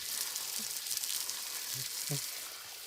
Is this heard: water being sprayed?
yes